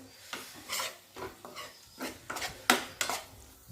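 Curd with green chillies is stirred in a pan on a gas stove, a spoon scraping and clinking against the metal in about eight uneven strokes, close and fairly quiet, with a soft sizzle underneath.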